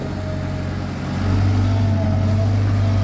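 A CAT 320 GC excavator with a four-cylinder turbo C4.4 diesel engine runs nearby while ripping up asphalt on a road-widening job, giving a steady loud drone that swells after a second into a deeper, heavier hum, with a faint groan under it.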